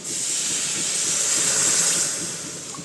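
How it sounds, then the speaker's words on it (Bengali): Sugar syrup of sugar and a little water boils in a wok on a gas stove, giving a steady, close hiss of bubbling and steam that slowly fades toward the end. "রসটা তো ফুটছে"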